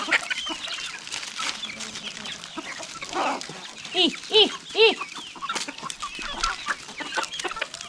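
Village chickens and roosters on a small Konkan poultry farm with new chicks, clucking and squawking in a busy overlapping chorus, several louder close calls rising in the middle, with faint background chatter of birds.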